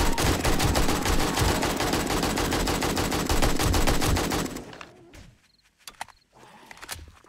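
Sustained rapid AK-47 automatic fire in the survival game 7 Days to Die, loud and continuous for several seconds before cutting off, followed by scattered quieter impacts and thuds.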